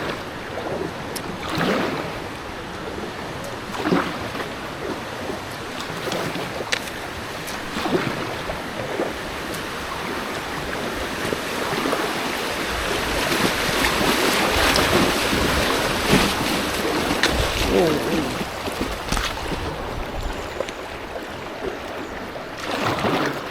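Moving water rushes around an inflatable Sea Kayak, a continuous broad wash of river flow and splashing with wind buffeting the microphone, rising louder midway, no talking.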